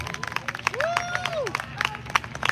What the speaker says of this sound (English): Y'all clap it up for Passaic County.